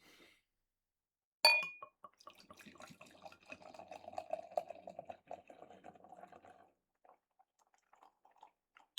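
Rye barrel-aged barley wine is poured from a bottle into a glass, opening with a sharp clink and then a long, soft gurgling trickle that fades to a few last drips in a quiet room.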